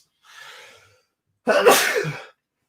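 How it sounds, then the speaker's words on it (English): A single loud, close sneeze on a wrestling podcast, with a soft breathy intake before it, then silence. "I don't think I've ever sneezed on a podcast before"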